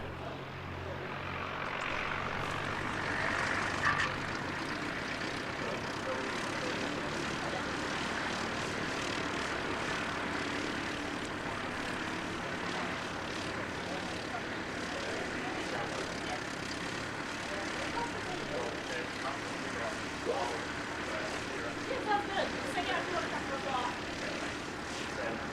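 Steady aircraft engine roar at Christchurch Airport after a landing, a continuous broadband drone from a distance that holds level throughout, with voices talking over it.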